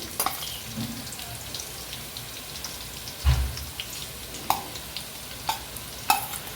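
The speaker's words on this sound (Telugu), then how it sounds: "ఇప్పుడు నేను దీంట్లో అల్లం వెల్లుల్లి పేస్ట్ అయితే వేస్తున్నానండి" Onions frying with ginger garlic paste in a pan, a steady crackling sizzle with occasional sharp pops and one heavier stirring knock, no talking.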